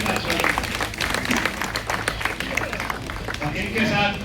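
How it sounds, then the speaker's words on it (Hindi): Crowd of Congress party workers in Gurugram clapping in welcome, a busy wash of hands heard under someone talking at a celebration. "जोरदार तालियों के साथ स्वागत।"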